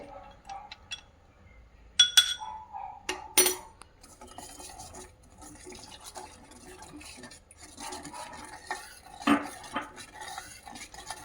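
Custard powder mixture being stirred into a fruit custard of apple, banana and pomegranate, with sparse spoon clinks and taps against a bowl, a few sharper knocks, and quiet scraping between them.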